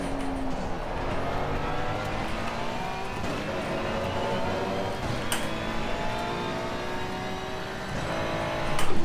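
Ferrari 296 race car engine in a racing game at Barcelona, a continuous revving whine rising and falling through gear shifts, sustained and fairly close, swelling louder at the very end.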